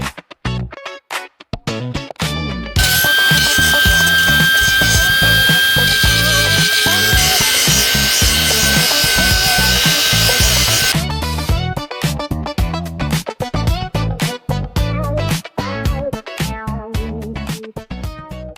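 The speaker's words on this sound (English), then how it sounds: "So now it is time to cut out some rust and weld some new fresh" A power tool cuts rusted metal out of a rotten Land Cruiser body, a loud sustained grinding whine running for about eight seconds between bursts of clattering, rhythmic workshop noise.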